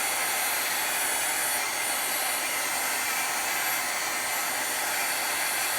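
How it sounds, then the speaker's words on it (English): Heat gun drying watercolor-painted card stock, a loud, constant blowing whoosh with an even hiss and a fan whine that stays unchanged from start to finish. "You want to make sure you dry it from the front and the back to prevent the"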